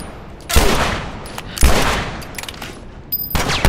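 Gunfire in The Last of Us Part 2, three loud, sharp shots spaced about a second apart, each followed by a decaying echo, with no talk.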